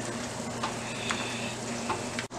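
A spoon stirs seasoned buttered rice in a pot, soft scraping strokes over a steady low sizzle, close and alone with a brief knock near the end.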